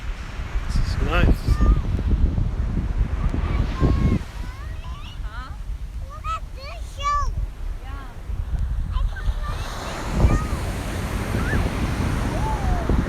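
Ocean waves breaking on a sandy beach where a Toyota Tacoma 4x4 is parked. Surf rolls in with a continuous, rushing wash and gusty wind noise, and indistinct voices drift in the background.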